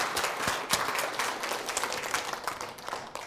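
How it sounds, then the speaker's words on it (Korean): An audience at a Bible and science lecture claps in thanks for the lecturer: a dense, steady round of many hands clapping together, fairly close, lasting the whole stretch with no talk over it. "우리 박사님께 우리 다 감사의 박수를 쳐드리도록 하겠습니다."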